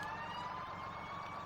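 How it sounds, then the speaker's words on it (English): In the Farming Simulator 17 video game, a fire truck's siren sounds at a fire rescue scene. It is a steady, faint, continuous wail with no voices. "We also do want to turn off the sirens."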